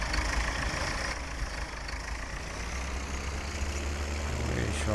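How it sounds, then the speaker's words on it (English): A 1961-era farm tractor idles alone, a low, steady, rumbling engine chug at moderate distance with no voices, holding an even level throughout. "We shall now go get the tractor."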